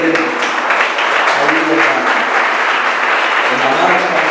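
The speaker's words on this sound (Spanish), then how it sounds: "Y yo quiero que les demos un fuerte aplauso a todos los servidores ayer" A church congregation at a Sunday service claps loudly and continuously, a dense wash of hands with a few voices calling out faintly underneath.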